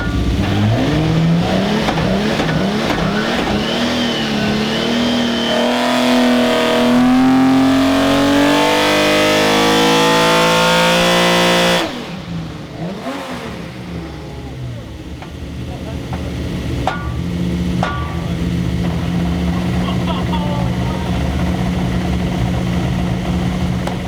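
A six-cylinder car engine screams up through the revs toward 7,000 rpm on a dyno pull, a loud rising wail that drops off abruptly midway, leaving a lower idle and rumble with occasional clatter.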